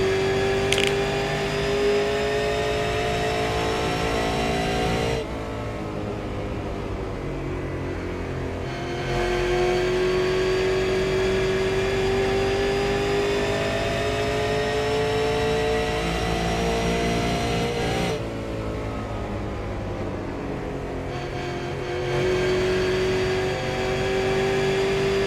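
A Super Late Model race car's engine screams loud and close from an onboard view, rising and falling in pitch as it accelerates down straights and lifts for corners, with repeated shifts in the engine note over the lap.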